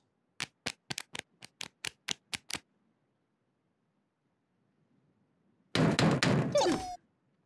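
Knocking at a door in the Twirlywoos cartoon: a rapid series of about ten sharp knocks, loud and close, then a quiet pause and a burst of bright jingling, clattering noise.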